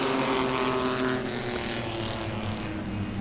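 Pro-Six race cars battle through the exit of turn two at Langley Speedway, their engines making a loud, continuous roar that fades slightly as the pack moves on.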